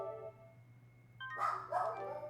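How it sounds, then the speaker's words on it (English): A house dog barks in two short, close bursts over a faint steady musical hum in the background. "Don't start barking, dog."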